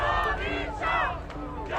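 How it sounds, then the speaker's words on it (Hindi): Crowd of protesters in Iran chanting slogans in unison, loud rhythmic massed voices rising in bursts, near and dense. "प्रदर्शनकारी यहां रजा पहलवी नाम के नारे लगा रहे हैं"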